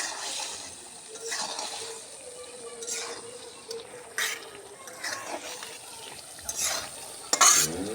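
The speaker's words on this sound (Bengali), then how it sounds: "সুন্দর করে একটু করে লাড়ে চাড়ে কষে নিবি ঢেঁড়স দিয়ে" Okra being stir-fried in a pan, with repeated scraping stirs and soft clinks of a utensil over a low, steady sizzle, close up and moderately quiet.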